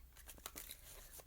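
Soft, faint rustling and papery crinkling as a Gilded Tarot card deck is shuffled, a steady brushing texture with a few sharper flicks, close but very quiet.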